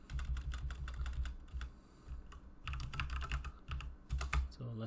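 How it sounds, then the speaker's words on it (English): Rapid, uneven clatter of computer keyboard typing, close and fairly loud, coming in bursts of quick keystrokes with short pauses while commands for an email-harvesting OSINT tool are entered. "I hate this that you have to type it 100 times."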